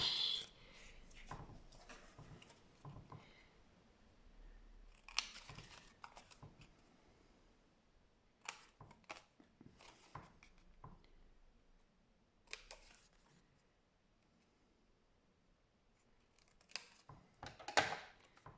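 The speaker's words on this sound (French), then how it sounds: "Là où j'ai mis le crayon, on coupe de chaque côté." Scissors snip through paper in short close bursts of crisp cuts separated by quiet pauses, with light paper rustling and handling, no talking.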